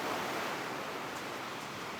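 Ocean surf at Yangyang beach, big waves breaking fast and throwing long trails of white foam, a steady broadband roar of crashing water with no voices.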